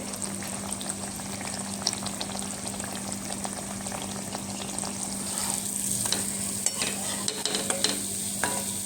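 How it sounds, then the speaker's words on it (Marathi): Anarse made from rice, jaggery and grated fresh coconut deep-frying in hot oil, giving a steady, close bubbling sizzle with scattered clicks of stirring and no talking. "हे बघा असे छान मी तळून घेते"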